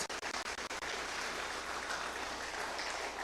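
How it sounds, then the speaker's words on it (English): A political rally crowd at Felicity Hindu School applauds. A few distinct claps open the sound, then it swells into continuous, dense clapping that stays even and moderately loud. "I want you to give yourselves a round of applause"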